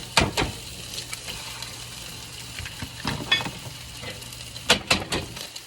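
Two eggs hit a pan of cooked chorizo and sizzle, with a few clinks and scrapes from the utensils against the pan over a soft, steady frying hiss.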